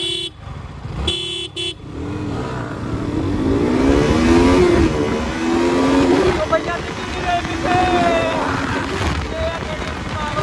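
Yamaha R15 and KTM RC 200 sport motorcycles racing, engines revving loudly with rising and falling whine as they accelerate, a couple of short horn-like toots early on and voices mixed in.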